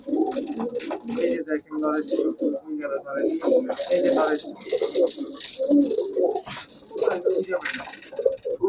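Pigeons at a bird shop coo softly in the background while someone talks almost continuously over them.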